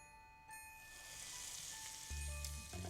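Red chilies and spices sizzle in hot ghee for a tempering, with a soft, steady hiss that swells after a moment, plus a few light metallic clinks near the end.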